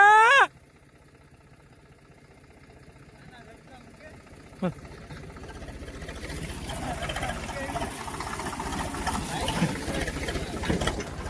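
A vehicle loaded with sugarcane for fodder pulls away on a farm, its engine noise building gradually into a rough, steady rumble after a brief quiet start, with a clank partway through and people talking nearby.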